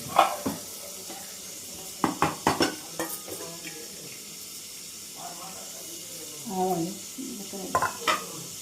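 Mustard seeds, cumin and dried red chillies fry in a little oil for sambar, a low sizzle broken by sharp clinks and scrapes of a utensil against the pan, close by, with a voice talking at intervals.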